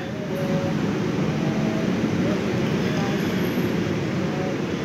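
An executive passenger train rumbles past steadily and continuously near a Jakarta station, a broad roar of wheels on rails that stays loud throughout.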